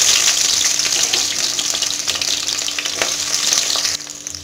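Small onions hit popping mustard seeds in sesame oil in a clay pot, raising a loud, crackling sizzle with bursts of spatter. A utensil stirs through it, and the sound drops slightly near the end.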